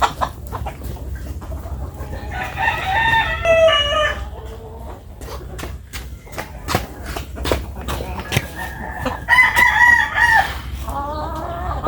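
Chickens clucking with a rooster crowing among them at feeding time, several drawn-out crows and steady clucks nearby over a constant low background hum.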